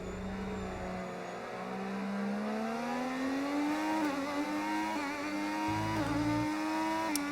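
An F1 25 video game racing car screams at high revs, its engine tone climbing steadily and then dipping sharply in quick downshifts, loud and close throughout.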